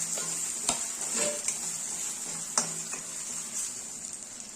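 Black masala for chicken curry is sautéed in a pan with a constant sizzle, while a spoon stirs and scrapes against the metal in several irregular strokes, close up and without talk.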